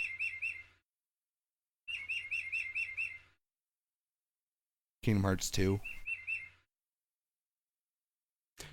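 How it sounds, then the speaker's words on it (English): An hourly clock chime plays synthetic bird calls in repeated bursts of tweeting and warbling, separated by silences, with a brief loud voice cutting in partway through. "they got this clock that has bird chimes every hour."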